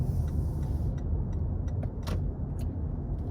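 A Toyota Prius rounds a corner with a low, steady rumble of road and cabin noise, broken by a few faint ticks and light clicks, with no talking.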